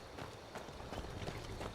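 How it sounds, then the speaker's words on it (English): Hooves of a horse in the video game Skyrim beat in a rapid, steady galloping rhythm, fairly faint against a dense background of game noise. "Good news is my horse is back."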